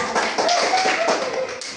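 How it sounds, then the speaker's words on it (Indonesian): Children clapping their hands together in a classroom game, a quick run of sharp, close claps with a faint tonal whistle-like sound drifting underneath. "Oke, tepuk tangan."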